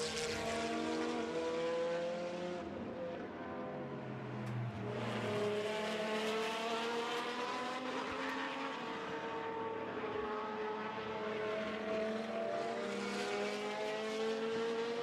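A late Ferrari GT2 race car during qualifying, its engine note rising and falling through gear changes as it passes nearby, loud over distant track noise with no speech.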